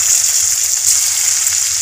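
Chicken pieces fry in butter and oil in a kadai with whole garam masala spices, giving a loud, dense, continuous sizzle close up with no talk.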